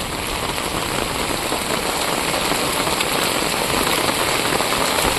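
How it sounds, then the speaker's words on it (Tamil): Heavy rain pours steadily in a storm over a flooding village stream in Vagaikulam, Tirunelveli district, a dense, loud, continuous hiss with no talk. "மழை சரியான மழை தான்"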